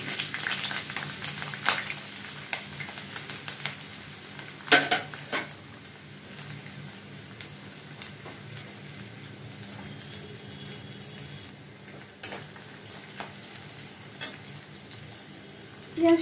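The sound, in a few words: onion frying in hot oil in a kadai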